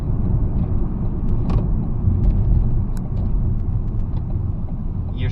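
A 2013 Ford Escape with a turbocharged EcoBoost engine accelerates, giving a steady low rumble and drone throughout with faint creaks and mechanical clicks above, fairly loud and close with no talking.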